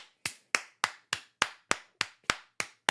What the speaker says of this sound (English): I clap for a queen